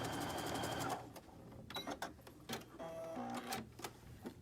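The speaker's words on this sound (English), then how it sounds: "so I've sewn that on, and now I'm going to sew this other one on." A sewing machine runs in a steady stitching burst while quilt fabric strips are sewn together for a scrappy hearts quilt block, then gives way to short clicks and handling noises; moderately close, with no talk.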